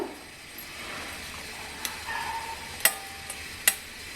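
Sago bhel chaat being stirred with lemon juice: a quiet, steady rustle of mixing, broken by a few sharp clicks of a utensil against the bowl.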